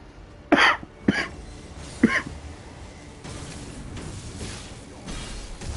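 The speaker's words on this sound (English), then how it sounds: "I hope my cough isn't just from going out today." Three short, sharp coughs, close and fairly loud, spaced about half a second to a second apart, followed by quiet room noise.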